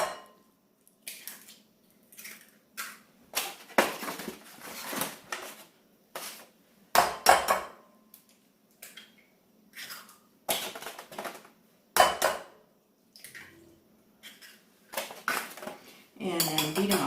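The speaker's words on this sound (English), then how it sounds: "So I'm going to crack them in this bowl" Eggs cracked one after another into a bowl for French toast: sharp shell taps and clicks arriving in irregular bursts, with quiet gaps between them, close and fairly clear.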